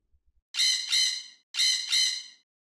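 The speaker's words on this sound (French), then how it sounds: "P is for parrot." A parrot lets out four loud, harsh squawks in two pairs, each call bright and raspy, preceded by a few faint low taps and no talking.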